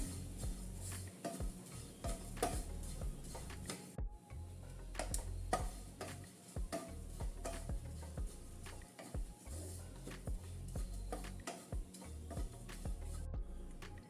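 Steady clicking and scraping of a spatula stirring oats roasting on low flame in a pan, with irregular ticks throughout, fairly soft and close.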